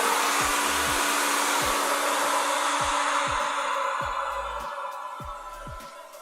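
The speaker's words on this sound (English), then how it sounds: "Now I'm gonna go in with my blow dryer with my diffuser attachment, and I'm gonna go ahead and dry my hair." A blow dryer fitted with a diffuser attachment dries curly hair, a loud steady airy roar that runs throughout with faint thumps underneath, easing slightly quieter near the end.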